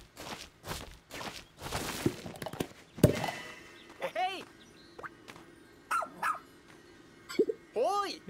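Rescue pup Ochi in Pikmin 4 digging through dirt with quick scraping thuds, then giving several short bright game-style barks spaced apart, with quiet gaps in between.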